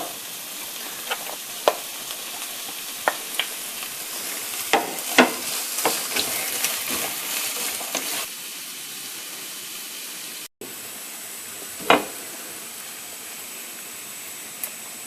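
Green beans stir-frying in a pan after garlic has been sautéed, a loud, steady sizzle broken by scraping stirs and sharp spatula clicks, with one brief drop out partway through and no voices.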